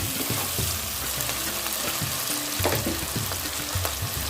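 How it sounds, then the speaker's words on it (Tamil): Tomatoes sauté in a pan for mushroom gravy, giving a steady close sizzle and light frying crackle with occasional soft stirring clicks throughout, with no talking. "தக்காளி நல்லா வதங்கணும், மசியணும் கிட்டத்தட்ட."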